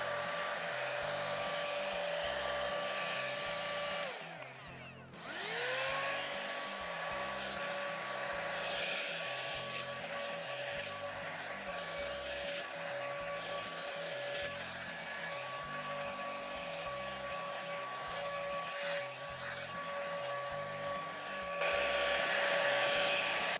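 A budget Dyson Airwrap dupe hot air brush runs on level 1, with a loud, steady whirring blow of air and a high motor whine. The tone briefly drops out near the start and then returns.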